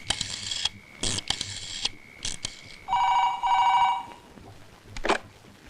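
A telephone rings in short repeated electronic bursts with gaps between them, loud and close, followed by a longer tonal ring and one brief final burst.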